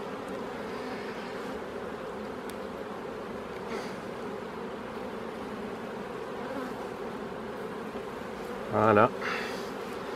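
A steady hum of honeybees fills the air around an opened double nucleus hive during a spring inspection, a continuous droning buzz with one brief louder sound near the end and a short spoken word.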